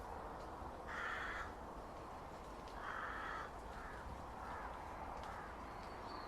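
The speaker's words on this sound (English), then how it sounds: "I hope the microphone has caught that crow flying overhead." A crow caws several times while flying overhead outdoors, the harsh calls fairly distant and spaced in a loose rhythm over steady background noise.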